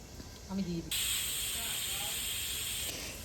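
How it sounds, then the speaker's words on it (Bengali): A pressure cooker holding chicken for tadka lets off steam, a loud sustained hiss that starts abruptly after a brief muffled clatter and holds steady to the end, close by and without talk. "ভালো করে কষিয়ে নিয়ে এবার প্রেশার কুকারে সিটে দিচ্ছে"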